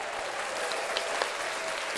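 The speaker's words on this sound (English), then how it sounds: "clap it up for..." Steady applause from a crowd fills the short stretch, dense and even with a couple of sharper claps poking through, no voices on top.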